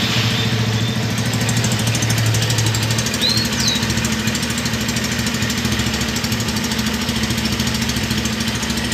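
A Honda Tiger Revo motorcycle with about 18,000 km settles into idle after a choke warm-up. Its engine runs as a steady, close, continuous thrum with an even pulse throughout, and no voices are heard.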